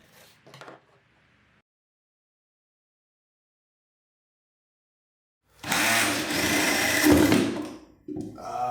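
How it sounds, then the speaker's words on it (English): After a brief burst and a long silence, a power drill whirs loudly into wood for a few seconds, stops briefly, then starts again. "first I'll need to drill some holes to make room"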